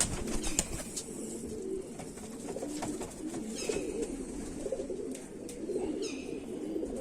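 Kamagar (Kamangar) pigeons coo in a low, continuous murmur, with a few brief wing flaps and faint higher chirps over the steady cooing.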